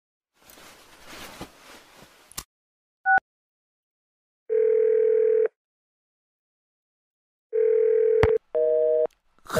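A telephone line plays after a call is hung up: a short blip, then long steady tones separated by silence and a brief beeping burst, clear and close.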